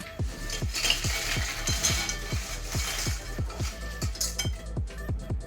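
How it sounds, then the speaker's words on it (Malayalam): Rava chips are tossed and stirred with chaat masala in a metal bowl, making a steady rhythmic scraping and rattling close up, repeated about twice per second, with no talking. "എന്നിട്ട് നമുക്കിതിനെ നല്ലതായിട്ടൊന്ന് മിക്സ് ചെയ്തെടുക്കാം"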